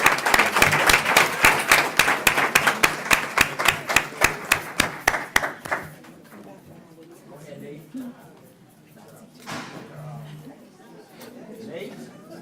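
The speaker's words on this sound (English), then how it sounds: "So give them an extra round of applause." Clapping at a school board meeting, with sharp, rhythmic claps keeping a steady beat for about six seconds, then fading into quieter room murmur and scattered chatter.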